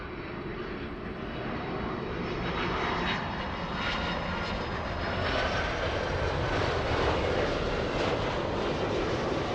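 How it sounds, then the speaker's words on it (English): Big Delta Boeing 767 jet arriving from Atlanta at LAX, a loud, steady engine roar that sustains throughout with no talk. "Big 767 flying in. Delta 501 flying in from Atlanta."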